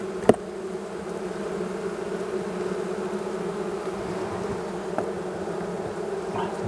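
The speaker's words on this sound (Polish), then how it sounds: "jest troszkę tych pszczół w ulu" Honey bees drone inside a beehive during a morning hive inspection, a continuous, even buzzing hum held close, with a sharp click near the start and another faint tick later, no voices.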